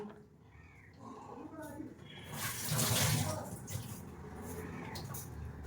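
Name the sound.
washing potatoes with water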